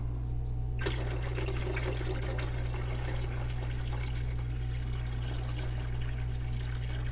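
Tap water is poured into the reservoir of a countertop ice maker, filling it up to the max fill line: a steady, close splashing and trickling that starts abruptly after a brief hush and runs on without talk.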